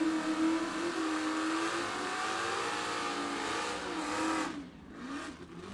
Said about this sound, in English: 84 Oldsmobile Cutlass on the left-hand side of Mike Mackey out of Algonquin, Illinois.